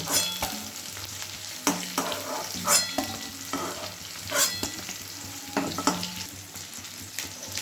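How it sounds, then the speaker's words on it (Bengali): Paneer pieces frying in hot oil in a pan, a steady sizzle punctuated by irregular clinks and scrapes of a spatula turning the pieces, close and fairly loud. "এরকমভাবে সব কটা যে কটা পনির আছে এরকমভাবে ভেজে নেব"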